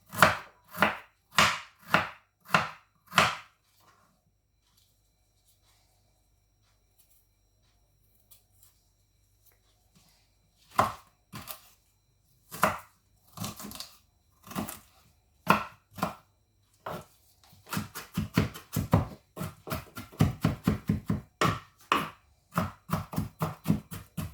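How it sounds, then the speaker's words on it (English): Peeled fruit being chopped for a smoothie, sharp close knife strikes on a wooden board: a quick run of steady chops, a long quiet pause, then scattered cuts building into a fast, dense burst of rapid chopping. "after peeling I'm going to chop it."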